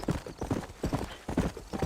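Quick, rhythmic horse hooves clip-clop close up while riding in the video game Red Dead Redemption, with a brisk and steady trotting cadence.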